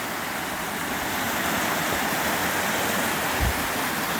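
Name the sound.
Dunn's Falls waterfall, water fanning out over rocks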